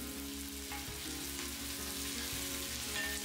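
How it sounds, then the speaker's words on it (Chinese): Chopped scallions hitting hot oil in a wok give a steady, dense sizzle that runs throughout, with a low rhythmic hum underneath and no voices. "油温上来了，先下葱花爆一下香味儿"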